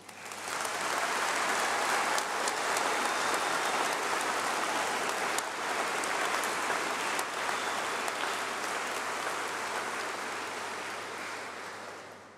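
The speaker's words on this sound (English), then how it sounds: "And please keep clapping." A large audience at a University of Birmingham graduation ceremony claps for the new graduates, a loud, dense, continuous wash of applause that holds steady before tapering off at the end.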